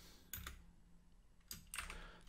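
Keys clatter on a computer keyboard in two short bursts of rapid typing, close and crisp, with quiet pauses between and no talking.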